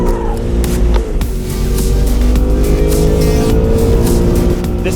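A Ford Mustang with loosened suspension launches down a drag strip, its engine roaring loud and steady with dense low rumble and rising harmonics, sustained throughout without speech.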